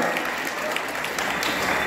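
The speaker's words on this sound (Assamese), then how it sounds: "হাত চাপৰিটো লাগে সকলোৰে পৰা" Audience at a college week prize-giving applauding, a dense, steady wash of clapping hands filling the room without pause.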